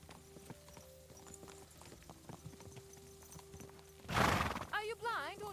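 Horse hooves clip-clop steadily in a medieval role-playing game, Kingdom Come, then a loud close neigh and whinny breaks in near the end, with faint background sounds beneath.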